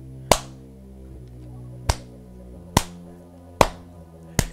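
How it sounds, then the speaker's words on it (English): Five slow, sharp single claps from Metroid Fusion, spaced unevenly about a second apart, ringing out over a low sustained game music drone with no voices. "Initiating slow clap maneuver."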